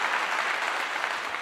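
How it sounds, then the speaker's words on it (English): A brief burst of applause from an audience, a dense, even patter of many hands clapping without a break and no speech over it. "Let me give you another clap."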